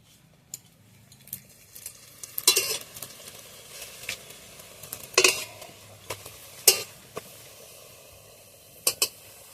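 Parathas frying in a little oil on a pan, with a steady low sizzle under a run of sharp scraping and clattering strokes from a spatula or turner, close and fairly loud.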